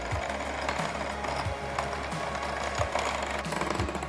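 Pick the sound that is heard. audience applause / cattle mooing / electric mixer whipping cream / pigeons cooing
electric mixer whipping cream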